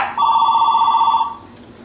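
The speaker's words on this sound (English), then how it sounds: "Let's see if this phone is for us." A home telephone rings once, loud and close, a steady electronic trill that then stops and leaves quiet room sound behind.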